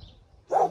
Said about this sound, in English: disturbed the doggies